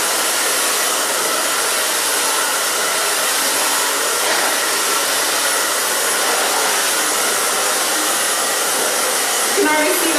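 A hair dryer blows on thick layered hair while a brush pulls it out smooth, a loud, steady, close whooshing roar running unbroken throughout.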